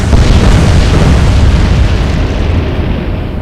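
Heavy explosions rumble as torpedoes sink a destroyer in the Atlantic Fleet naval warfare game, one continuous loud, booming roar that fades slowly over a few seconds with no talking.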